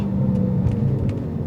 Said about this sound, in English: that V12 humming away behind you